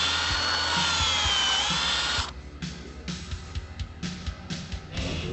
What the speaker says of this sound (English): We'll install a Tapcon screw through the wall tie into the stone, and then we'll attach this to the wall.